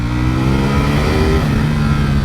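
A Ducati Panigale V4R motorcycle ridden on a public street, its engine droning loud and close at a steady, moderate pace with a rich buzzing tone and no voices.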